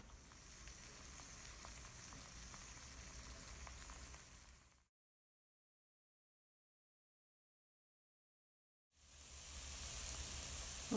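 Almond flour flatbread frying in a hot pan greased with coconut oil or butter, giving a steady close sizzle that cuts out for a few seconds and then resumes.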